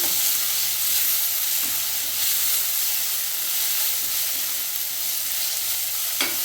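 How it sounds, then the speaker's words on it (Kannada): Chopped tomato frying in oil in a pan for beetroot palya, a steady broadband sizzle and hiss that holds throughout, close and fairly loud, with a brief stir scrape near the end and no talking. "ಟೊಮೊಟೊನು ಕೂಡ ಫ್ರೈ ಆಗಲಿ ಎಣ್ಣೆಯಲ್ಲಿ"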